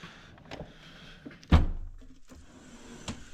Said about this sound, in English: This here is my measuring drawer